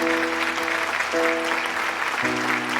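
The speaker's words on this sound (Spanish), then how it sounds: "dale un fuerte aplauso a la palabra de Dios" Church congregation applauding during a sermon, a loud, dense clapping wash with a sustained organ or keyboard chord underneath.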